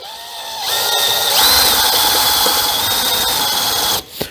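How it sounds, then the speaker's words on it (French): A power drill runs continuously, boring a hole for an M8 thread. Its loud, steady high whine shifts pitch slightly partway through, and it spins down at the end. "Vu que je perce en M8, je prends le forêt qui va bien pour faire le filetage."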